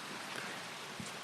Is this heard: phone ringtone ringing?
no